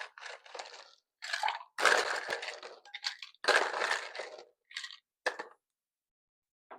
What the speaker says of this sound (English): Then we're going to fill that shaker tin up nice and high with ice.